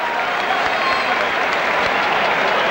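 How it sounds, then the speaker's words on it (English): Football crowd at an Everton v Southampton match applauding a pass, a dense steady wash of clapping from a large crowd that lasts throughout. "the crowd applauded the pass from Harper"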